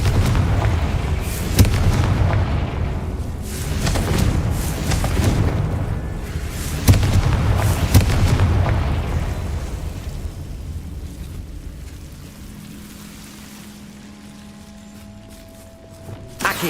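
Confringo fire spells from the video game Hogwarts Legacy go off as a run of loud booming explosions over several seconds, then the blasts fade into a low rumbling background.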